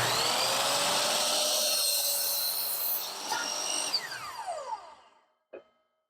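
A power saw cutting a 45 degree bevel through a wooden board, a loud high whining cut that winds down as the blade spins to a stop, followed by a single light knock.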